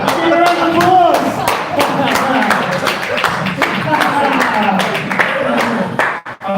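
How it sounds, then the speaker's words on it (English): A live audience gives a round of applause, brisk clapping mixed with voices and cheering that holds steady for several seconds before cutting off abruptly. "Give a round of applause!"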